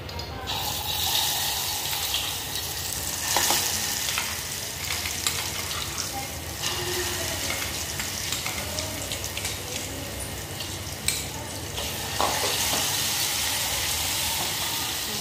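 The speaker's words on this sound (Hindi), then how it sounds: "अभी मिर्ची को हम छौंक लगाएंगे" Chillies sizzle in hot oil while being tempered, a steady, close frying hiss that continues without pause, with no talking.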